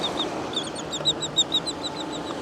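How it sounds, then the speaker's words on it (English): Birds squabble on a sandy beach, a quick run of sharp, high chirps and squawks repeating in bursts over a soft background wash, fairly close and loud. "What are you birds fighting about?"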